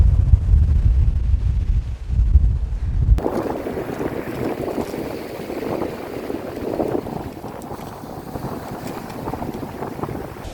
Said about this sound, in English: Oh, it's pretty breezy here